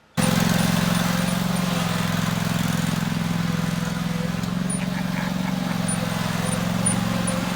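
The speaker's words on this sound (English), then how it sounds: "his first start and ride of that lawnmower" A riding lawn mower engine runs at a steady, loud drone, a constant low rumble that barely changes for the whole stretch.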